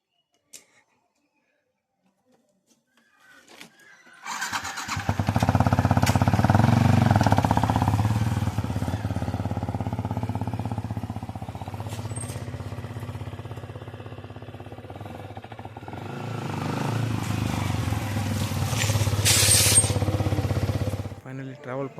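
A motorbike starts up after near silence and rides on with a steady, fairly loud engine drone that swells again toward the end before cutting off.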